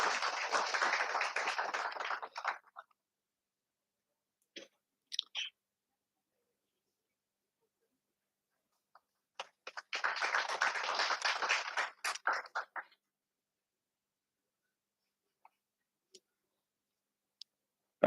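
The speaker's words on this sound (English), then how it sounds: "Big round of applause, please." Audience clapping at a World Food Safety Day ceremony, two short bursts of applause separated by a quiet gap with a few isolated claps and taps in between.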